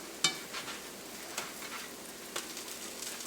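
Pancakes or flapjacks frying in a pan make a faint, steady sizzle. A few brief clicks and pops, including one sharper tap near the start, rise above it with no talking.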